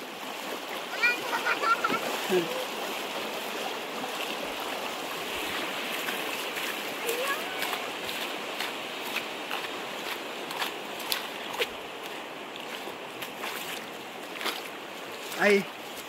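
Continuous rushing of a stream flowing over rocks, with occasional splashes and scattered soft voices in the background.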